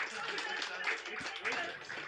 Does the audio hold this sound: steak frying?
no